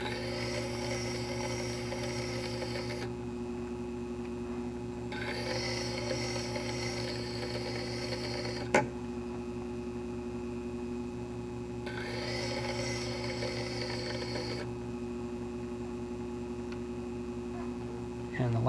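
An Ultra Tec faceting machine grinds a row of facets on a gemstone with a steady motor hum throughout, and a brighter grinding hiss rises and falls in several long passes, close and continuous.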